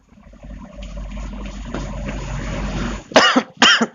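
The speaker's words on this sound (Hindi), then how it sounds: "सॉरी प्रॉब्लम हो रही है आज बहुत ज्यादा खांसी की" A person coughs twice in quick succession, close and loud, following a stretch of low background rumble.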